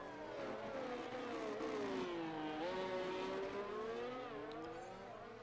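A McLaren race car in a racing video game revs, its engine note climbing and dipping through gear changes in a sustained, moderately loud whine, with no voices.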